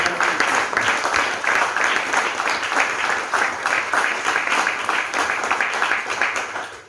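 Audience applause at a talk on nationalism, a steady sustained wash of many hands clapping at fairly loud, even level throughout, with no voices over it.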